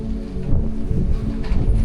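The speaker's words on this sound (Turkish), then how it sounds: "Yağmurlu ve fırtınalı bir köy gününden merhaba." Steady rain with a low rumbling of thunder and gusty noise throughout in a village, no voices.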